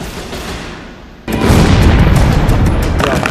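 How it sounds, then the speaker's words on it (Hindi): A Taiwanese army artillery live-fire drill breaks out with a sudden loud blast after a quieter rumbling stretch, followed by a sustained, roaring wash of firing and reverberation that stays heavy to the end. "ताइवान की सेना ने अब युद्धाभ्यास के बहाने अपनी आर्टिलरी का मुंह खोल दिया है।"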